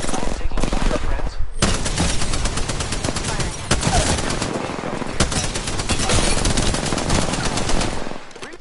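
Gunfire in an Apex Legends battle: dense, sustained automatic bursts of loud shots run almost the whole time, with brief gaps, heavy impacts and game sounds mixed in, close and intense.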